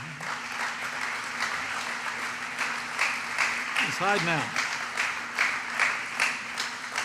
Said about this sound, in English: Would you join me in giving a round of applause for Mark Paulillo?